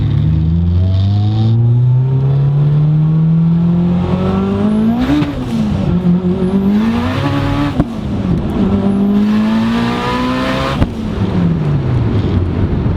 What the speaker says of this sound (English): Just listen to the boost. It's so good. And then it kicks in.